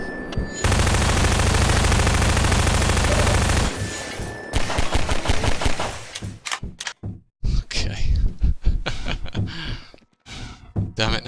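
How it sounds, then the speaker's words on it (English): Rapid gunfire in a Half-Life 2: Episode Two mod, a dense continuous burst for several seconds, followed by scattered shorter volleys and single shots separated by brief pauses. "Just run backwards and shoot."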